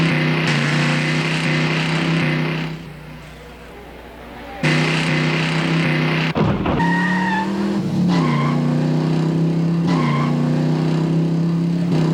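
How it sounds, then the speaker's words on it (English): Brand-new stunt cars at a fair thrill show skid hard with loud squealing tires, engines roaring continuously, with a brief lull before a sharp screech and repeated rising squeals. "they all skillfully put their brand new cars through unbelievable and dangerous stunts"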